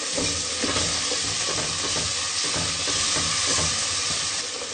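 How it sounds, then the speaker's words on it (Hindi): Masala spices roast in a pan for sarson ka saag, giving a continuous close sizzle with stirring scrapes and no talk. "4 से 5 मिनट हम इसको मजीद भूनेंगे। मसाला हमारा अच्छे तरीके से भुन गया।"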